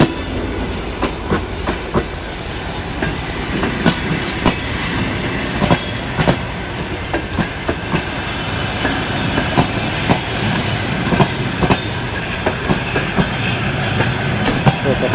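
A Barnaul–Karasuk passenger train passes close by at night, a steady loud rumble with rhythmic clickety-clack of wheels over rail joints throughout, no voices.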